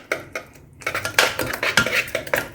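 A spoon stirs raw mango pulp in a metal pot for spicy mango papad, knocking and scraping against the sides in quick, irregular clinks, close and moderately loud.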